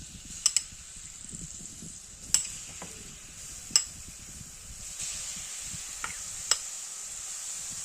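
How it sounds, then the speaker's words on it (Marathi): Grated red pumpkin (lal bhopla) hitting hot ghee in a kadhai gives a soft, steady sizzle, broken by a few sharp clicks of a utensil against the pan. "तूप थोडं गरम झालं की आपण हा जो कीस केलाय हा कीस टाकून घ्यायचा कोवळ्याचा"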